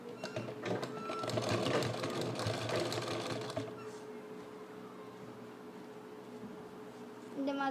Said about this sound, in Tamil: அதை ஒரு தையல் போட்டுக்கோங்க.